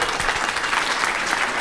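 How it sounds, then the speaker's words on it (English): Audience applause at a 1 Million Cups startup pitch event in Wichita, a steady wash of many hands clapping together from a nearby crowd, sustained evenly with no voices above it. "Give Seth a round of applause"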